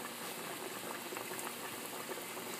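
Bangladeshi pakkon pitha fries in hot oil with a constant dense sizzle and bubbling. The sound is steady and close, with no voices.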